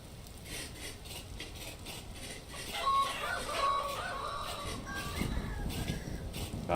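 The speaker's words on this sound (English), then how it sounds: "Cock-a-doodle-doo." A rooster crows in the video game Vintage Story, a mid-loud call rising over steady game ambience and lasting a few seconds, with no talk over it.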